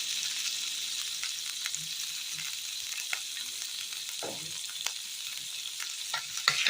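Garlic frying gently in oil in a pan, a bright continuous sizzle with occasional soft stirring scrapes and a louder crackle near the end, no talking.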